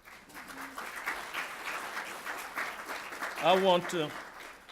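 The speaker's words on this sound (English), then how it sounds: "I can't let you applaud too long" An audience applauds steadily at an electric-power event in North Carolina, a dense moderate wash of clapping throughout, with a voice breaking in over it near the end.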